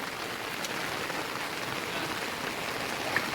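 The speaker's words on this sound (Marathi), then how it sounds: "बघा इकडे पाऊस भरपूर आहे." Heavy rain pours steadily over the Konkan hills, a close, even wash of patter and drops with no voices.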